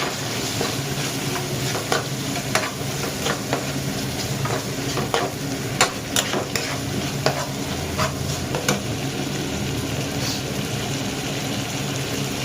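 Tomatoes fry and sizzle in a pan for Maharashtrian drumstick kala masala curry, a constant hiss broken by repeated sharp scrapes and clinks of a spoon stirring against the metal, close and alone.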